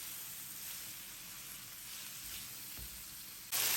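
Beef with nutmeg, curry and black pepper sizzles while frying, giving a steady, even hiss close by. No one speaks, and the sound ends with a brief louder burst.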